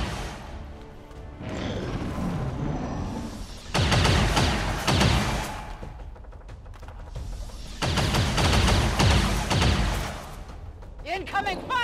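Video game gunfire in XCOM 2 comes in heavy bursts of rapid shots and impacts, separated by quieter stretches of background game sound and ending with a short whooshing effect.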